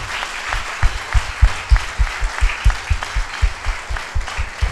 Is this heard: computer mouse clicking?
no